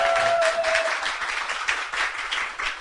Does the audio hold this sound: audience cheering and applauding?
yes